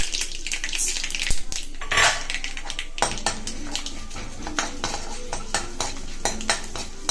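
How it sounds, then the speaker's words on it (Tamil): Mustard seeds splutter in hot oil in a kadai, with sharp, irregular pops and crackles and a few metallic clinks over a low frying hiss. "இப்போ இது கடுகு பொரியுது ஃப்ரெண்ட்ஸ்."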